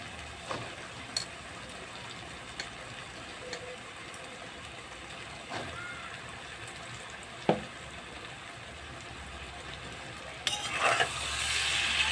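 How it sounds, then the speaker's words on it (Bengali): Cut taro stolons dropped into spiced oil in a pan for a dried-fish curry, giving a faint steady sizzle with occasional stirring knocks, swelling into louder frying toward the end. "মশলাটা দিয়ে তেল ছেড়ে দিয়েছে এবার দিব কেটে ধুয়ে রাখা কচুর লতি"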